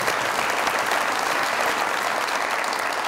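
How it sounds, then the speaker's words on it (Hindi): Studio audience applause on a Pakistani comedy talk show, a dense and even wash of clapping that holds steady throughout with no talk over it. "कायम अली शाह बहुत सारी तालियां इनके लिए"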